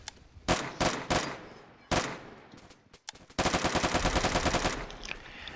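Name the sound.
AI-94 gun firing in Phantom Forces video game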